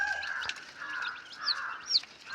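Soft chirps and peeps from about 110 newly delivered chicks mix with low hen clucks in a faint, continuous chatter, with a couple of sharper high calls.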